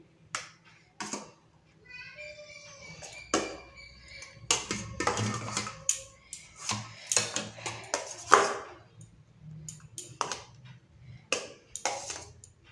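Rice and fried eggplant being spooned onto a plate at home, with sharp clinks of a spoon against the plate coming in irregular bursts while people talk nearby.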